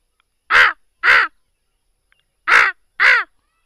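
A man imitates a crow cawing, giving four loud, harsh caws in two quick pairs separated by a short silence, alone without other sound.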